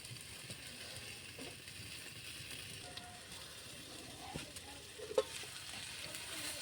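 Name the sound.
stirring frying onions and chillies in a pan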